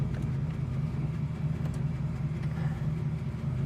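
A 1968 Chevrolet Camaro engine idles warm and steady, with a deep, even low rumble that holds throughout, close and fairly loud, and no voices.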